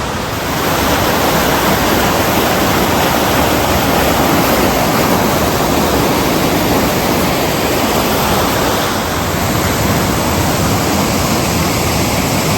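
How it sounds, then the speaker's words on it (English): A steady, powerful roar of a big waterfall in Northern Ireland, broadband and continuous, close and loud throughout with no pauses. "There's another big waterfall here,"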